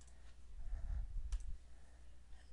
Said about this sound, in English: So if I click here again, that stuff is in there.